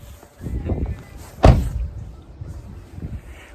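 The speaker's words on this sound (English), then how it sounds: "All right, close this door, kiddo. Close that door." A door swings shut with a single solid thud partway through, heard close against the muffled shuffle of movement and indoor background noise.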